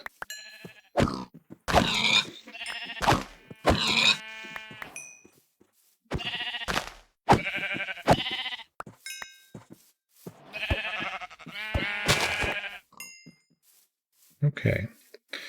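Sheep bleating in a survival video game, several short wavering bleats scattered through the clip, mixed with someone talking over them as a pig is also hunted.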